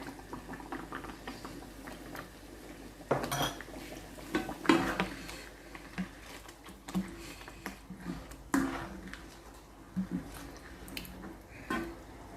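A pot of okra sauce seasoned with salt and black pepper is stirred with a utensil, producing soft scraping and clinking against the metal pot in irregular bursts, quiet and close.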